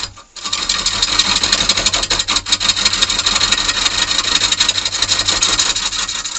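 A cutter bar chips wood while hollowing a hollowform on a lathe, a close, loud, continuous scraping and rasping with fine rapid ticks throughout.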